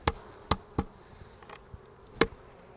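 Honey bees hum faintly in a hive while sharp wooden knocks and clicks from frames being handled break through at irregular moments.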